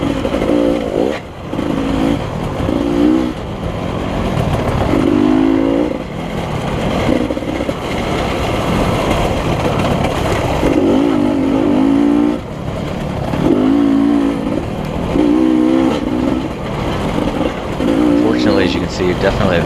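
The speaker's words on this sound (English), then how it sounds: "I can hear some rumbling behind me. So I know there's a couple of bikes behind me." Motorcycles racing on a track at LaCygne, Kansas, with a steady close engine drone and repeated rising revs as gears change, bikes rumbling behind under wind noise.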